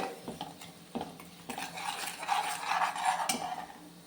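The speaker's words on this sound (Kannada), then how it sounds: "ಇದನ್ನ ಇಷ್ಟನ್ನು ಮಿಕ್ಸ್ ಮಾಡ್ಕೊಳ್ಳೋಣ ನೀಟಾಗಿದ್ರಾಗೆ" A spoon stirs and scrapes a garam masala mixture around a pan for an egg masala curry, making repeated close scraping strokes with light clinks, no voices.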